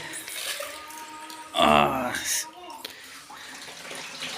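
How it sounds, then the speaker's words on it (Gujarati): Water splashes and pours briefly into an air cooler for about a second, with quiet talking in the background before and after. "કુલરમાં નાખે છે પાણી"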